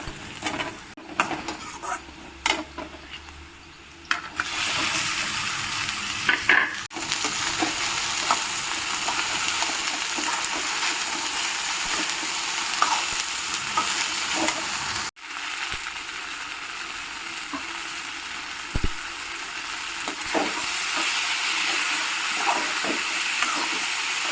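Okra frying with onion and chili in a pan, a steady broad sizzle with occasional stirring clinks and scrapes running throughout, close and fairly loud with no talking.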